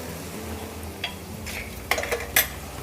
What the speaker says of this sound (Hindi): अब मैंने गैस का फ्लेम जो है बिल्कुल कम कर दिया है और इस मसालों को अच्छे से भूनेंगे हम।